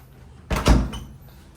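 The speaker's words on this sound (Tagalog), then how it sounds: "Sarado lang natin itong mga pinto." A door swings shut with a single solid thud, a brief close impact with a short low rumble, heard alone in a quiet room.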